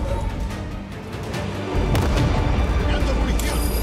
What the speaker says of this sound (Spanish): Granada de fragmentación va.